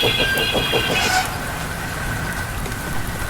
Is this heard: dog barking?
no